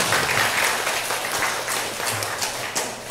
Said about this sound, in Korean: 우리 수고해 주신 김종선 국장님께 다시 한번 박수 부탁드리겠습니다.